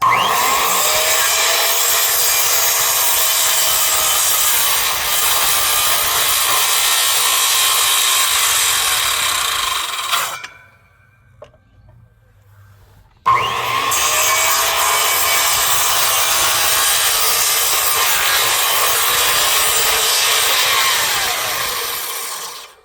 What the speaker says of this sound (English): we do a little punch cut as we walk the saw along, and it'll clear that out